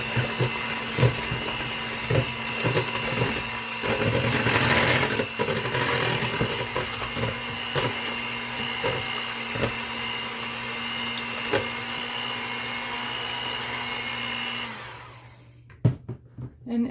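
Electric mixer working nut roll dough made with Crisco, a steady motor whine with rhythmic knocking from the beaters, running continuously and then cutting off near the end.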